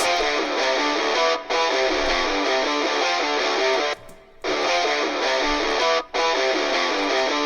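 Distorted electric guitars from a remake, wet with added reverb, play a loud, steady chugging riff with brief gaps between phrases and no voices.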